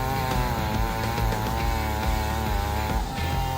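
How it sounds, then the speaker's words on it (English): A large chainsaw with a bar nearly a meter long cuts through a big tree trunk, its engine droning loud and close in a steady, continuous snarl with slight shifts in pitch under load. "With a sharp saw blade nearly 1 meter long, it is being used to saw a large piece of wood"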